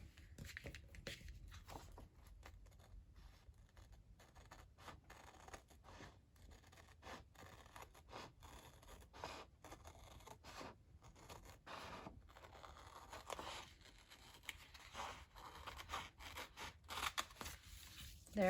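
Scissors cutting through a paper planner printable, a long stretch of quiet, steady snipping and scraping strokes, close by, with faint voice at times.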